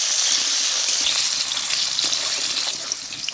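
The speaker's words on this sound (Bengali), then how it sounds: "এবারে আলুটা আমি তেলের মধ্যে ভেজে নেব।" Potatoes fry in hot mustard oil in a wok, giving a loud, continuous close-up sizzle that hisses steadily throughout.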